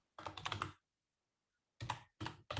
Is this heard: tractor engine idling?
no